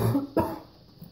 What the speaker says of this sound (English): Edit out all these coughs.